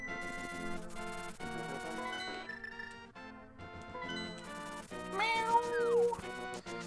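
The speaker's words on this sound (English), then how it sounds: "There goes my cat doing his thing." A pet cat meows, a few rising and falling calls near the end, over louder game music and sound effects playing throughout.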